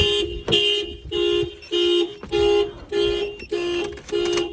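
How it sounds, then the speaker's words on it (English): A Scion tC car alarm blares in a repeating cycle of loud electronic tones, about eight pulses with short gaps between them, close and steady. "Somebody opens the door, it would trigger, and it won't allow the car to start."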